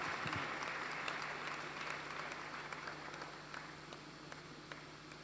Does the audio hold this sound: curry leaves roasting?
no